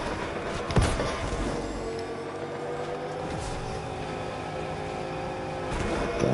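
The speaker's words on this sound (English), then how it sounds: "Gas station, I can hear the car." A car engine in Fortnite hums and drones steadily, with a sharp hit near the start and a rising rev toward the end, moderately loud and close.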